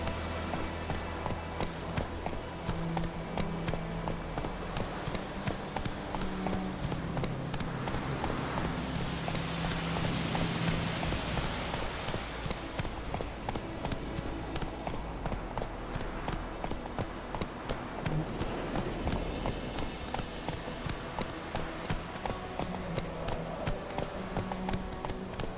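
Geralt's horse Roach gallops steadily through The Witcher 3, a continuous rapid clip-clop of hooves running the whole time over a dense game soundscape.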